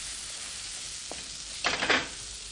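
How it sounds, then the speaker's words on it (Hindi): Masala with red chilli powder roasting in a pan, a steady close sizzle broken near the end by a short burst of scraping stirs, with no talking. "इस डिश में ये जो मसाला है अच्छी तरह से हमने भूनना है"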